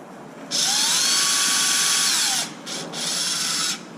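A small power driver tightens a bolt on a Traxxas Wide MAXX kit. There is a close whine for about two seconds, a brief pause with a quick blip, then a second shorter run.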